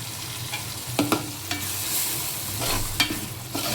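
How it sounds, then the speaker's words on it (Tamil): Tomato paste fries in hot oil for a fish kulambu, a steady close sizzle broken by sharp scraping stirs near the start and again toward the end, with no voices. "அந்த தக்காளி பேஸ்ட்டை நம்ம இப்போ இதில் ஊற்ற போகிறோம். எண்ணெயில் வதங்கணும் நல்லா"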